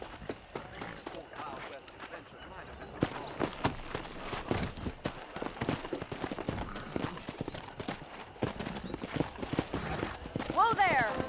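Horses clip-clopping in the PC game Red Dead Redemption, irregular hoof beats on hard ground mixed with game ambience, with voices speaking over them and a brief whinny near the end.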